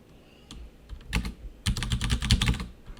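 Keys clatter on a computer keyboard as a command is typed, a few isolated taps followed by a quick dense burst of keystrokes, close and clear with no talking.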